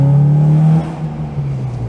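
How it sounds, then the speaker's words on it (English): A car's VTEC engine drones loudly and steadily inside a tunnel, then the tone drops away into a quieter rumble and whir. "Underneath the tunnel, a little bit of VTEC."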